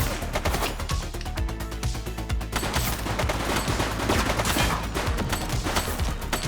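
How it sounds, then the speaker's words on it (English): Rapid bursts of gunfire crack and rattle through a shootout in the video game The Precinct, with dense overlapping automatic shots sounding loud and continuous. "Shots fired!"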